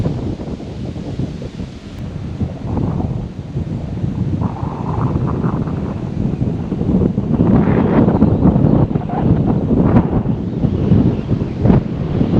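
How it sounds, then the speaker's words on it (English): Strong, gusty wind buffets the microphone on an exposed hilltop overlook near Sunset Rock in Chattanooga, Tennessee, a steady loud roar with heavier blasts and rumbling swells throughout. "It's so windy up here, you guys."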